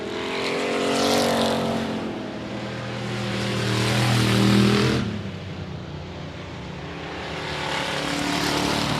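Factory stock cars racing on the I-37 Speedway oval, loud engines roaring past in swelling waves with a sharp drop midway, then another pack building again.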